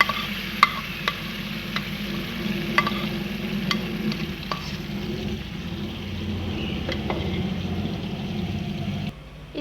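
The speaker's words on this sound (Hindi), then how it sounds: "उसके अंदर 3 चम्मच ऑयल डालेंगे, और ये जो चिकन मलाई बोटी का मैरिनेट किया था इसको इसके अंदर डाल देंगे" Marinated chicken malai boti frying in three spoons of oil in an open karahi over high heat, a continuous close sizzle with occasional sharp pops and stirring clicks, no one speaking.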